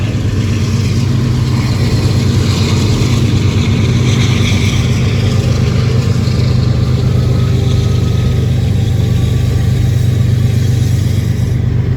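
A car engine runs at a steady low hum, close and continuous, with a constant drone and no clear revving or talking over it.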